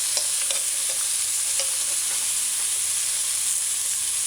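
Hamburger patty frying on a stovetop, steady loud sizzle and hiss with light repeated scrapes of a spatula working underneath it, no voices.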